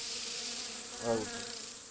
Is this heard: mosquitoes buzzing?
yes